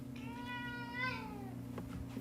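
A pet cat meows once, a drawn-out rising-then-falling call close by, over a low steady hum in a quiet room.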